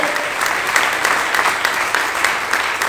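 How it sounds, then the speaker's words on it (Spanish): A church congregation applauds in a steady, dense wash of clapping that holds for the full stretch, close and loud. "Den un aplauso a Dios en esta tarde"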